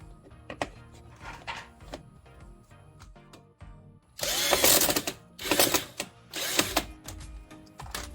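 A screw being driven to secure the fender liner on a 2017 Kia Forte, heard as light ratcheting and mechanical clicks at first, then three loud, harsh bursts of driving close by, with short pauses between them.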